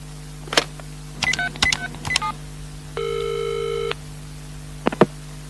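A telephone number is dialed as a quick run of electronic keypad tones and beeps, followed by a steady ringing tone lasting about a second and a few short clicks, close and clear with no voices.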